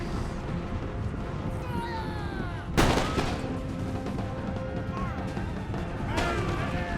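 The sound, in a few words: gunfire from musket infantry volleys in the video game Empire Total War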